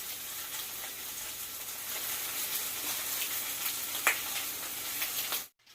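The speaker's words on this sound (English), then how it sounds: "I'm letting it cook for like a minute so to make sure that it's brown" Beef sizzles in a hot pan while browning for lo mein, a steady crackling hiss with a few sharp pops, close and continuous until it cuts off abruptly.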